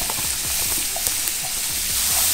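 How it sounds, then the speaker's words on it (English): Shallots frying in butter in a pan that just held fish, giving a steady close sizzle with faint crackles throughout and no talk. "We're gonna go in with some butter in the same pan we just cooked our fish in. As well as some shallots, as Gordon Ramsay would say."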